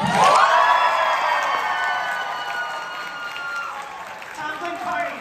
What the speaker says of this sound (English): Applause for Team Black.